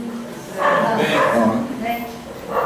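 A dog barks and yips nearby during an indoor lecture, a few short barks mixed in with someone speaking continuously.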